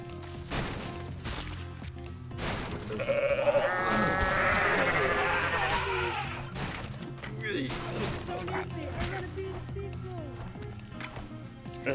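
Goats bleat repeatedly in the zombie-goat mode of the Goat Simulator video game, wavering cries up close amid crashes, thuds and running, with a voice talking over parts of it.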